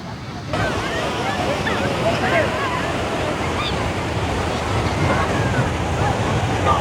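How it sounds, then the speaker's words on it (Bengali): Rough, strong sea surf pounds Puri Golden Beach, a Blue Flag beach in Puri, as a loud, unbroken roar of breaking waves mixed with wind buffeting the microphone. "আজ সমুদ্রের ঢেউ কিন্তু খুব জোরে দিচ্ছে"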